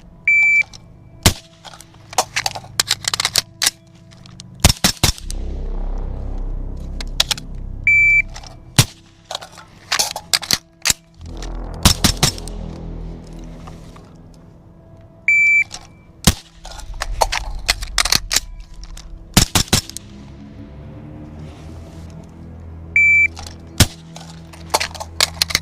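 A Centurion Arms 11.5-inch AR-15 rifle fires repeatedly outdoors: sharp, loud cracks come in bursts and singles, with low rumbling echoes and electronic beeps between them.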